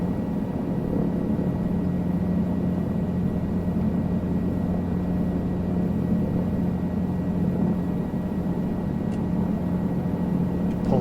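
A helicopter in Microsoft Flight Simulator 2020 accelerates down the runway for a level takeoff, its rotor and engine giving off a steady, unbroken low drone throughout.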